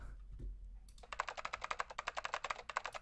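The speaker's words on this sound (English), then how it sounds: "You're typing so fast." Fast typing on a computer keyboard in the 999 video game, a quick, steady patter of crisp key clicks that starts after a brief low rumble and runs continuously.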